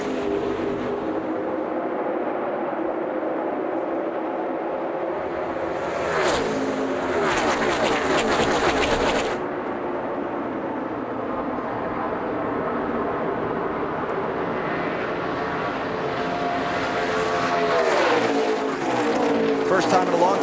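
A snarling pack of NASCAR stock cars runs three and four wide in a race, their engines roaring loudly and continuously with a swelling pass midway, while a commentator talks over the noise.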